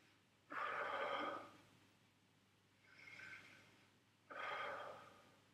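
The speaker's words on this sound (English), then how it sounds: "Take a nice deep breath." A patient breathing deeply during a physical exam, three slow, close breaths of rushing air separated by quiet pauses, the middle breath softer than the other two.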